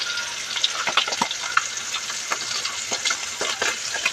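Tamban fish fry in a pan of hot oil, giving a steady, bright hiss of sizzling close by with scattered crackles and spatters, and no one speaking.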